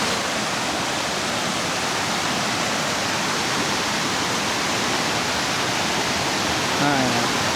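Water rushes steadily at the Karang Anyar natural bathing spring, a dense, continuous outdoor roar like a small waterfall, with a brief voice near the end.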